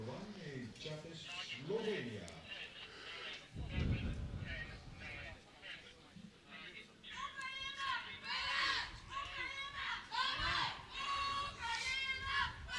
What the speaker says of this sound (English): You can hear the chants from the crowds.